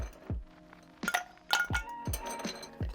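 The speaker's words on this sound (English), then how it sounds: "So we'll put ice in this glass." Ice cubes dropped into a glass while making a vinegar fizz cocktail, giving several sharp clinks and clatters spaced across a few seconds, close and fairly loud with small ringing tails.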